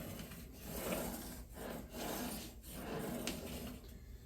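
Pliers work on heavy Johnson door rail hardware, such as slides and rollers, giving a rhythmic rasping and scraping of metal on metal, fairly quiet and close with no talk.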